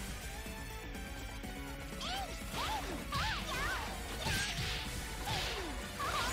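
Gatling Ice attack in Senran Kagura Estival Versus: a steady run of crashing, whooshing hits with sharp chimes, swelling in bursts over a busy game soundtrack.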